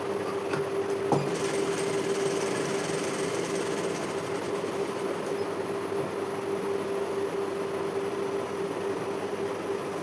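A tailor's sewing machine stitches a blouse sleeve, a continuous close-up mechanical drone with a faint steady whine and a few light clicks near the start, running without pause and with no voices.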